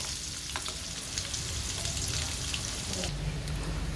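Garlic sizzles and crackles steadily in a hot oiled pan as it is sautéed and stirred for squid adobo with tomato paste, close and continuous, with faint voices talking underneath.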